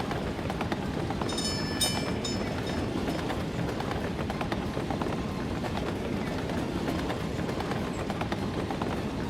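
Trains run along a railroad in the video game Workers and Resources, giving a steady, dense rumble with rhythmic wheel clatter that holds at an even level throughout, with no voices.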